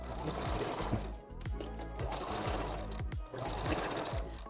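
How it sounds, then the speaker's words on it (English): A sewing machine stitching three hair bundles tightly onto a 5x5 closure for a wig runs in a fast, steady whir, close and continuous, with brief dips as the work is shifted. "we're sewing it so close, guys, because we want to fit all 3 bundles."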